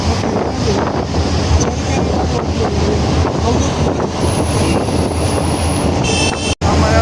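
While travelling along the road, wind buffets the microphone as a constant, loud, rumbling roar with no pause.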